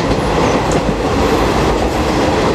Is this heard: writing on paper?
no